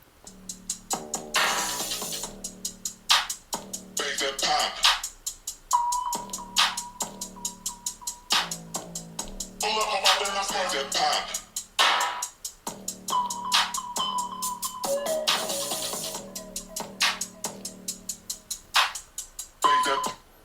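A Google Pixel 10 Pro XL phone speaker plays a rhythmic music test track with a beat and bright melody, loud and fairly thin in the low end, with no talking over it.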